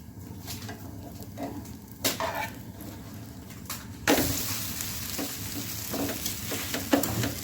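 A dosa frying on an oiled pan, with a soft sizzle and scraping, then a sudden louder sizzle as it is flipped and the spatula knocks and scrapes against the pan.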